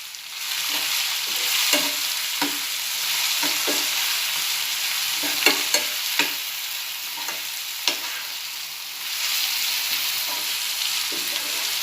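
Tomatoes and onion fry in a pan with a steady, fairly loud sizzle, broken by frequent scraping stirs and a few sharper clinks of the spoon against the pan, with no voices.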